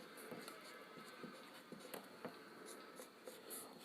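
Chalk or pen writing on a board during a Hindi biology lesson, with a series of short scratchy strokes and taps, fairly faint against a quiet room, no talking.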